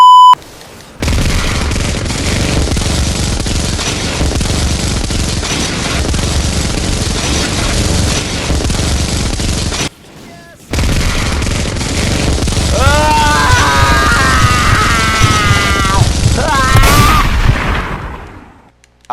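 Game weapon fire aimed at a ship in Ratchet & Clank, a dense, continuous barrage of loud shots and booms with a short break, then warbling electronic beeps and tones riding on top near the end.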